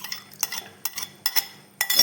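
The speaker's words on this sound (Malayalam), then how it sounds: "ഞാൻ തേങ്ങേൻ്റെ പാലിൽ അരിപ്പൊടി ചേർത്ത് സ്പൂൺ കൊണ്ട് ഇളക്കിയിട്ട് ഒഴിച്ച്" A spoon stirs rice flour into coconut milk for jackfruit halwa, giving soft scraping swirls broken by a few sharp clinks against the vessel, quiet and close.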